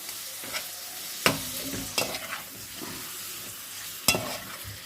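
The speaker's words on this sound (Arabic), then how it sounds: "خلي بقى اللحمه براحتها تتشوح خالص" Meat sautés in a pan for green beans with coriander and garlic, sizzling steadily and close with a loud frying hiss, broken by a few sharp stirring scrapes and clanks.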